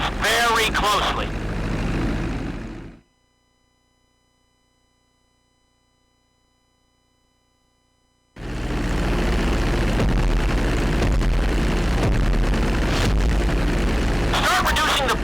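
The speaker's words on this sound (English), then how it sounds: "Start reducing the plane's altitude gradually so you're just above the runway as you approach." An airplane flying in the video game GTA 5, a loud continuous engine drone that cuts out to near silence for several seconds, then returns just as loud and steady.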